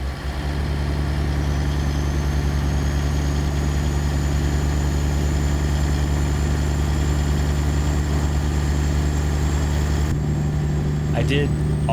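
A deep, steady Peterbilt truck engine in the video game American Truck Simulator idles continuously with a low rumble, loud and close, barely changing throughout; a faint whistle rises near the end.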